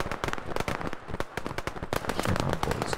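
Rapid machine gun fire in a WW2 online shooter game, dense bursts of sharp cracking shots in quick irregular rhythm, loud and close, filling the whole stretch without speech.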